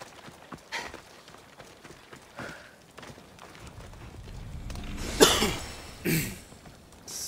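Horse galloping in the video game Assassin's Creed Odyssey, its hooves giving quick clip-clop beats that build louder toward the end, mixed with faint game ambience.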